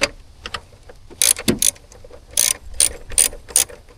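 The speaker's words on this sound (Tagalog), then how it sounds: "Gusto ko yung tunog ng ratchet, yung itong kick." Hand ratchet tightening a car battery hold-down bolt during a battery replacement on a Buick, with quick bursts of sharp clicking pawl strokes in short irregular runs, close and alone.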